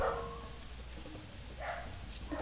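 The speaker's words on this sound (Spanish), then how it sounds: "no se callan los perros" Several dogs bark in the background in short bursts, some sharp yaps and whimpers mixed in, moderately loud over a steady low hum; no one speaks.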